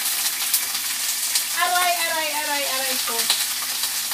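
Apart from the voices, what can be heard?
onions sautéing in a pan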